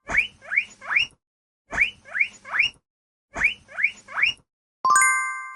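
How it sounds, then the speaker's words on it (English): A guinea pig squeaks in three bursts of three quick, rising squeals, each burst separated by a short silence, then a bright chime sounds at the end. "Guinea pig."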